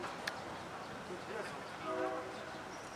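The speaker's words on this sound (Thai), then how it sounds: "เสียงรถไฟกำลังวิ่งเข้า" Rumbling rail traffic with a train horn sounding briefly in the background, amid city noise and faint voices nearby, as a train pulls into Hua Lamphong station in Bangkok on an evening during a crowded event.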